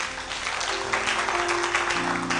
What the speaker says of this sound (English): Can't give the Lord a mighty clap of praise.